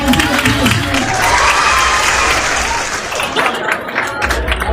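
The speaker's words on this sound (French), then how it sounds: "On les applaudit" An audience claps loudly at a public event, a dense burst of applause with some cheering, and voices talk over it.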